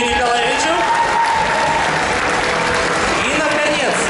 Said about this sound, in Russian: Аплодисменты Юрию Николаевичу